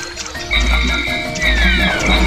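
A frog in the Nintendo Wii game Pikmin 2 gives two deep, pulsing croaks over bright game music tones, each lasting about half a second.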